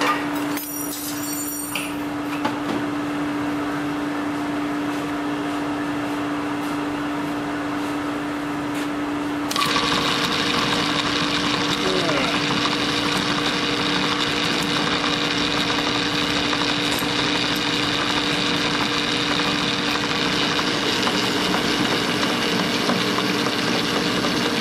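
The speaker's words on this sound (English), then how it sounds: "we're going to start by core drilling the guide out" A core drill boring out an Oldsmobile engine valve guide starts up partway through and settles into a steady, loud whirring drone, with a constant hum running underneath from the start.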